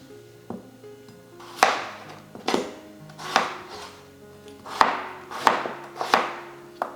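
A knife chops potatoes on a board for mashing, with about eight sharp, evenly spaced thuds ringing close and clear, and no voices.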